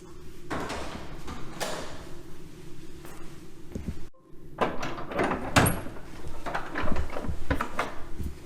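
A door in a chateau opens from the dining room toward an entrance hall, with thumps and creaks over steady room noise, followed by a series of knocks and footstep-like clatter.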